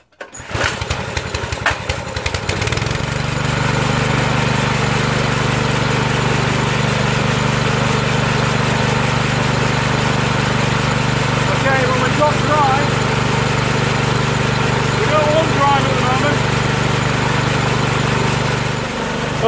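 A petrol-powered sweeping machine with a slipping brush drive belt cranks and fires, then settles into a loud, steady, buzzing engine run that continues unbroken, close to the listener.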